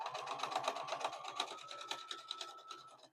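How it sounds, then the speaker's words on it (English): A sewing machine stitches a pant hem, running steadily at close range with a fast, even mechanical rhythm before stopping abruptly near the end. "Now my machine is moving fast"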